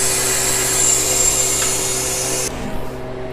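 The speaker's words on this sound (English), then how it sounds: "Open up the drain valve. It's going to make some noise." A Harvest Right freeze dryer's drain valve is opened, letting out a loud, steady hiss of rushing air with a hum underneath. It runs for about two and a half seconds, then drops off abruptly to a quieter residual hum.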